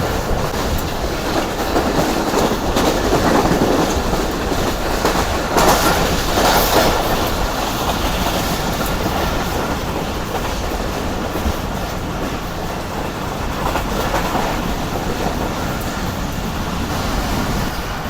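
The Karakoram Express train running at speed on the rails, a loud continuous rumble and rattle of carriages heard from inside, with a steady clickety-clack and occasional faint metallic squeal.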